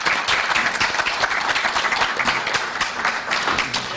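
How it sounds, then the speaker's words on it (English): Sustained, dense applause from an audience at a fund ceremony honoring a family, loud and steady clapping that fills the whole stretch without a break. "I think the family deserves a round of applause for their commitment"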